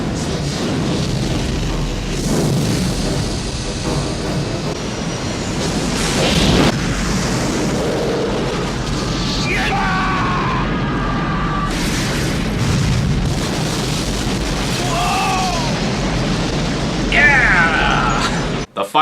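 A loud, rumbling explosion from the film Die Hard 2 (1990) with booming low end and crackling fire, continuing under swelling music and scattered effects.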